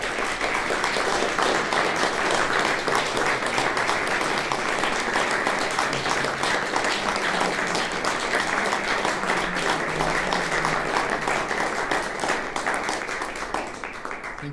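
An audience at a lecture on medieval Scottish music applauds after a song performance, with dense, sustained clapping from many hands that holds steady and fades slightly at the end.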